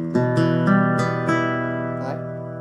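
Martinez Hispania black classical guitar played unamplified, nylon strings plucked in a series of about six arpeggiated notes and chords that ring and sustain, close and moderately loud, with no talking.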